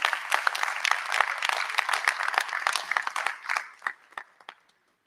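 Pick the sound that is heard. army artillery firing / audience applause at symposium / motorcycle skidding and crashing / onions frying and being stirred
audience applause at symposium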